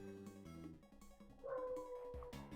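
Charlie the dog whimpers and yips with a rising howl-like tone near the end, faint and indoors, under background music.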